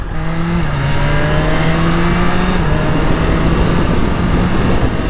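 A BMW S1000RR sport motorcycle ridden through town, its engine droning loudly and steadily up close with a gear change early on and a rising pitch as it pulls, alone without speech.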